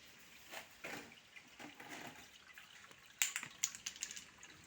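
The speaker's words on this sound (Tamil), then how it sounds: "இந்த மாதிரி ஒரு ஃபில்டர் ரெடி பண்ணாங்க இப்போ இது வந்து ஆஃப்ல இருக்குது நான் வந்து சுவிட்ச் போட்டோன்னே அது எப்படி ஓடுதுன்னு பாருங்கள்" A homemade filter runs in a fish tank, with faint water trickling and dripping and soft splashes that grow sharper and more frequent toward the end, heard quietly close by.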